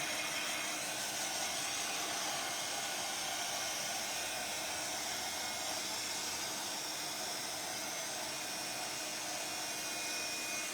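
A close hand-held dryer drying paint in an art journal blows continuously with an even, hissing roar, holding steady from start to finish with no voices.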